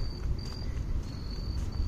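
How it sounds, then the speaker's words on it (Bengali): A cricket chirps in the evening along a tree-lined walking path in America where leaves are turning yellow, its thin high trill coming in short bursts over soft low background rumble. "চিক চিক করে একটা ঝিঝি পোকা ডাকছে,"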